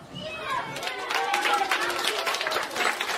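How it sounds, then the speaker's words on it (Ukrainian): An audience of children and adults at a holiday Bible camp applauds as the red team comes onto the stage, loud continuous clapping with crowd chatter and voices rising over it. "що ви будете тільки зустрічати оплесками"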